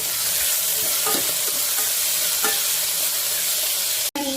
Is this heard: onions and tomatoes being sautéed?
yes